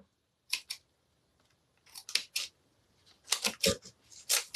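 Scissors snip material for an antique washboard shabby chic home decor project, several crisp close cuts in short clusters separated by quiet pauses.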